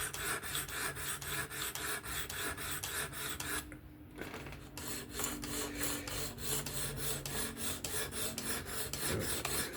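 An S30V steel Spyderco Kapara knife is sharpened on a fixed-angle sharpener, producing rapid rhythmic rasping strokes close up, briefly pausing partway before the steady back-and-forth grinding resumes.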